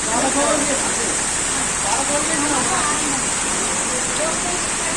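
Heavy rain falling at an open vegetable market during Ganesh festival preparations, a dense, loud, unbroken hiss of downpour with voices talking faintly underneath.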